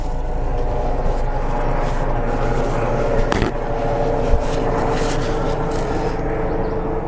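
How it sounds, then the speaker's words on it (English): A helicopter drones overhead outdoors as a steady, broad rumbling roar that stays loud and constant for several seconds, with a faint click partway through. "got a helicopter flying over"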